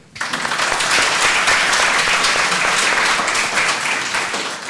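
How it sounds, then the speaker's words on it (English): Loud applause from a crowd starts abruptly and continues steadily, dense clapping filling the room before easing slightly at the end. "please give a huge round of applause to Wojtek from Chicago"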